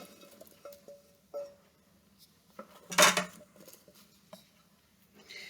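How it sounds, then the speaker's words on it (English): Diced, peeled russet potatoes tumble into a pot in one loud clattering burst, with scattered small knocks and clinks of kitchenware before and after, close by and with no talking. "I peeled about 5 medium russet potatoes and diced them up real well. So I'm going to add those."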